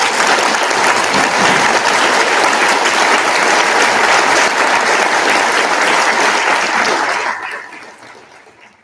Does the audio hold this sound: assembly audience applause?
yes